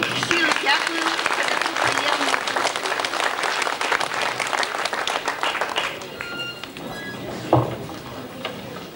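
Audience applause in a hall for a Ukrainian amateur folk choir performing in Belarus, a dense steady clapping that fills most of the stretch, then thins and fades toward the end.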